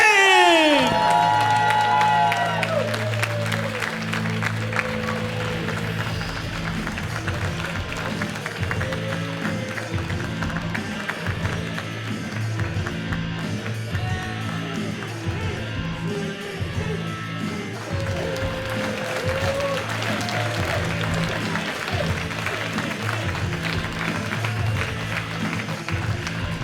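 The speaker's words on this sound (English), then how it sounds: "Give a round of applause for Danny Duggan." Crowd at a wrestling show in Tunbridge cheering, whooping and applauding after a match, loud and sustained throughout, with music and shouts mixed in.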